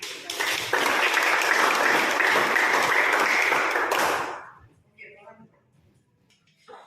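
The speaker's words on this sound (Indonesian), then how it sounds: "Baik, tepuk tangan dulu." Students in a classroom burst into dense, loud applause that holds steady for about four seconds and then fades quickly, followed by brief faint voices and small noises in the quiet room.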